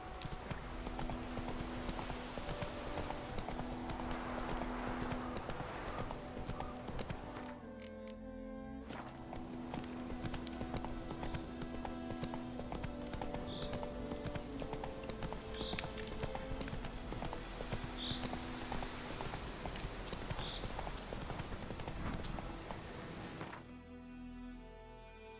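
Geralt's horse Roach clip-clops in a steady, rapid hoof rhythm through The Witcher 3, the galloping continuous and fairly close, broken briefly by a short pause and occasional whinnies over game background sounds.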